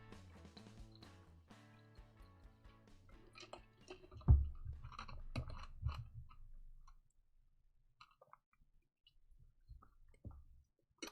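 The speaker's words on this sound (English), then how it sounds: "Sorry if you can hear that, I just chewed on some ice." Ice chewed by mouth, heard as a burst of crunching and crackling close to a microphone after a stretch of faint ticking and background tones, then fading to scattered small clicks.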